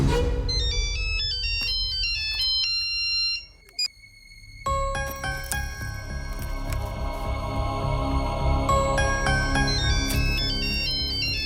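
A mobile phone ringtone plays loudly as a looping electronic melody, briefly cutting out near the middle before resuming and continuing steadily, with no voices over it.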